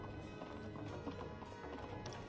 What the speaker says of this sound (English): I sound like a horse. Why are the footsteps like that?